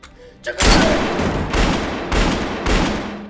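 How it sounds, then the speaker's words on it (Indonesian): Heavy bursts of gunfire boom in quick succession, four loud volleys with short gaps, close and echoing. "aksi tembak-tembakan pun kembali terjadi"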